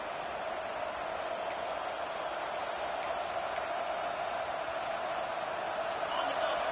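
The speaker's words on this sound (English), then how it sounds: "The roar of the crowd trying to fuel this defense to keep them pinned in their own end" A football stadium crowd roars in a steady, dense wash of noise that stays constant, with a few faint sharp ticks on top and a broadcast voice speaking over it.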